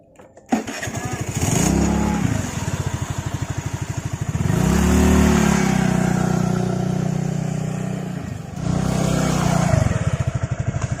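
Small motorcycle engine near a river revving hard in repeated bursts, the first after a sudden start, then holding a loud rough drone before dropping and revving again, close by.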